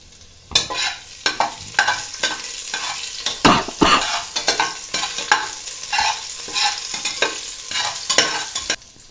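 Slit green chillies and a tempering with asafoetida sizzling in hot oil for khara pongal, loud close frying crackle with rhythmic stirring strokes, no voices.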